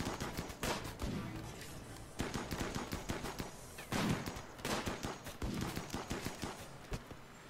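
Video game weapons firing in repeated bursts and single shots at enemies running for cover. The shots are fairly quiet and sound somewhat distant, with continuous sharp cracks over several seconds.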